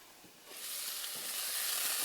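Onion, ginger and garlic sauteing in a covered pan, a steady close sizzle that grows louder after half a second and continues evenly with no talking.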